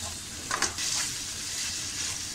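Ginger garlic paste sizzles on a hot tawa for street-style pulao, a dense continuous hiss with faint frying crackle and a brief clink of a spoon.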